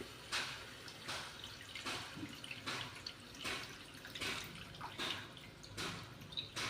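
Tamarind water poured by hand into a pot, heard as a run of close, soft splashes and trickles that come in regular bursts with no talking.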